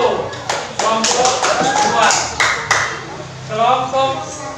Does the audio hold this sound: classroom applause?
yes